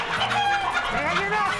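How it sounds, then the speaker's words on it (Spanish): A hen clucks in a busy setting, a few short repeated calls rising over steady background noise and a murmur of voices. "¡Mi gallina! ¡Agarra mi gallina!"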